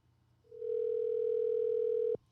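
A single steady telephone dial tone rises clearly above faint background hiss while a call is being placed, holds for about a second and a half, then cuts off abruptly.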